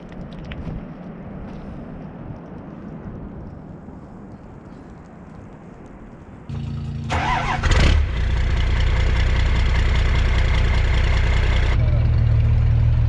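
A 2nd-generation Toyota 4Runner and other vehicles warm up at idle outdoors. Quiet ambience gives way to engines coming to life with a brief rising rev, then a steady, loud, droning idle holds to the end.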